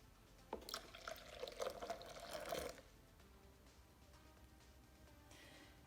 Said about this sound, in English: we're just gonna pour the other cup in. And then last but not least, our organic soy milk, vanilla flavor.